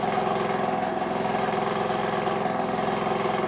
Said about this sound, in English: It's spraying out pretty well.